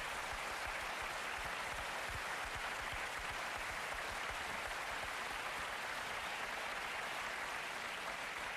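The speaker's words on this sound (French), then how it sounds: "Je crois que vous pouvez l'applaudir" Sustained, dense applause from a studio audience on a 2003 French television music programme, a steady wash of many hands clapping evenly without letting up.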